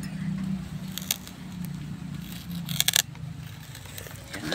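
A plastic sheet is handled and rustled while covering a bent papaya plant outdoors. It makes crinkling, crackling bursts, loudest near the middle, over steady background noise.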